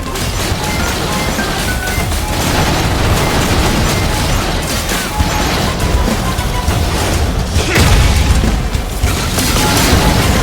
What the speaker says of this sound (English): Eat my missile!